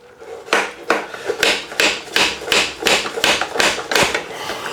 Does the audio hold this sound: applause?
no